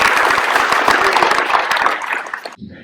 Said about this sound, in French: Voilà, on peut les applaudir aussi.